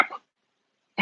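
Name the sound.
puppy barking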